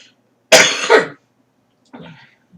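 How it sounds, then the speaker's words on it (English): A loud, harsh cough rings out close up, followed a moment later by a softer, shorter cough. "I have like a cough going on"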